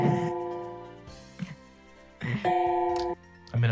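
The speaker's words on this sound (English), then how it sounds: "Stop hitting the gong." A gong struck repeatedly in the online game Club Penguin Rewritten, ringing with sustained metallic tones in separate strikes that hold and decay, with a quieter stretch between the hits.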